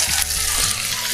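Zucchini and celery fry over high heat in a pan, giving a brief burst of bright, steady sizzling hiss at close range.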